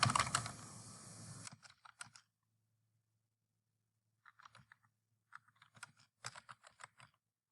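Keys on a computer keyboard are typed close by: a quick run of clicks at the start, then scattered short bursts of keystrokes separated by silent pauses, all fairly faint.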